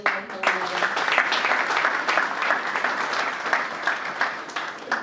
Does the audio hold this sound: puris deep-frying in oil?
no